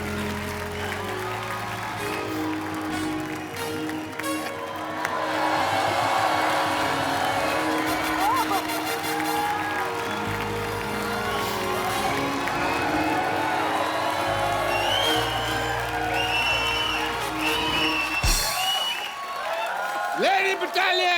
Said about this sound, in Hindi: जोरदार तालियां शाहरुख भाई